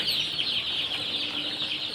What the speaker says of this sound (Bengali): এটা হচ্ছে টাইগার মুরগি এখানে আর কি ব্রুডিং করা আছে